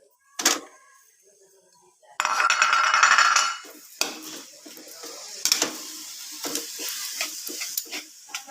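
Fried rice being cooked in a pan with metal utensils, sharp clinks and scraping knocks at irregular intervals over a sizzling burst, with a voice speaking briefly in between.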